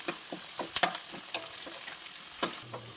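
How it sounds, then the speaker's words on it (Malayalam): Curry leaves sizzle and spit in hot oil, a crackling fry with scattered sharp pops over a steady hiss. "ഇപ്പോൾ കറിവേപ്പില ആഡ് ചെയ്ത് കൊടുത്തു"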